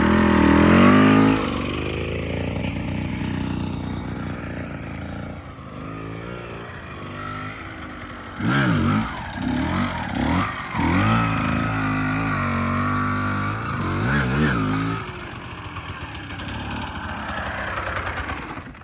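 Motorcycle engine at slow speed as the rider works throttle and clutch, a steady mid-distance drone broken by several short rises and dips in revs, with no voices over it.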